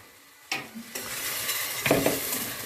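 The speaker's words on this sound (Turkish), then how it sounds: "Ve şimdi e, soğanla kavuracağız" Boiled ısbıt, a wild herb, dropped with onion into a hot pan, a sudden burst of sizzle followed by clinks and scraping of a utensil as it is stirred.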